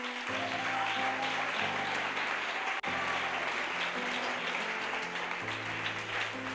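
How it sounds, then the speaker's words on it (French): A church congregation at a French-language religious conference gathering applauds loudly and continuously, dense clapping over sustained music chords with a brief dropout near the middle. "On acclame pour lui."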